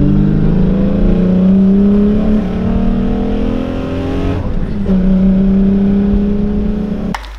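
A VW Golf VR6 with engine damage revs up loud and close, its pitch rising and sustaining, then dropping briefly before climbing again, with no voices over it.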